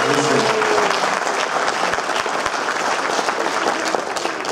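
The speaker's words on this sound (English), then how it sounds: "so let's give them a round of applause for being very quiet" Audience at a school fall band concert applauds the junior high concert band, a dense, steady wash of many hands clapping in a hall that stays loud and even, with a few sharper claps standing out.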